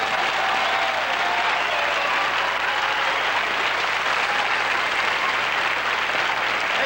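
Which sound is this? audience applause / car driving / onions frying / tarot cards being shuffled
audience applause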